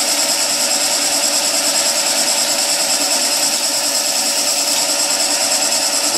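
A lathe tool makes a clean cut into timber spinning on a wood lathe, giving a loud, steady, hissing shear that holds constant without pause, close up and alone.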